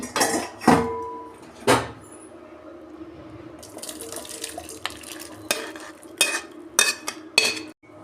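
Cooked ghugni, a yellow pea curry without turmeric, tipped out of a pot into a dish, with sharp metal clanks of spoon on pot early on and a wet sliding spatter of bursts toward the end.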